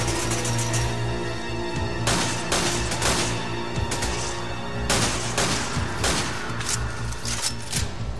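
Rapid bursts of gunfire in the Resident Evil 5 video game, loud and dense, with repeated sharp shots clustered in volleys over a steady background din.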